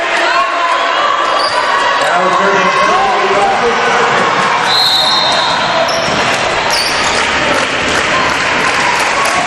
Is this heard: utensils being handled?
no